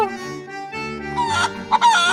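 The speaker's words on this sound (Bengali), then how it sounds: "ডাইনিটি রমেশের বাড়ি থেকে হাঁস মুরগিগুলো সব নিয়ে চলে যায়" Cartoon ducks and chickens in an animated Bengali ghost story, a short run of tonal clucking and honking calls that grow louder and busier toward the end, with no speech.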